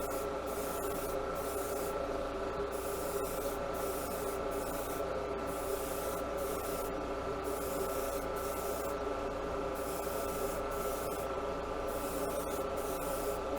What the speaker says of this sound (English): we're ready to shoot the paint, and here we go. So we'll do a first pass.